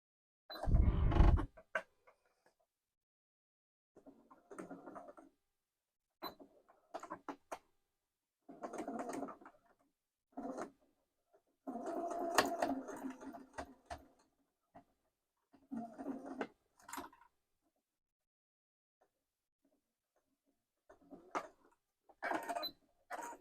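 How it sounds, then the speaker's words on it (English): A sewing machine stitches down wallet pieces with a narrow seam in short, stop-and-start bursts of mechanical whirring and clicking, close by with quiet pauses between runs. "I'm going to sew these down with about a 1/8 inch seam allowance"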